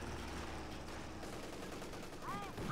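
Faint, dense gunfire volleys crackle continuously in a World War II strategy game battle, with a Panzer II nearby, a muffled rattle that stays low and distant throughout.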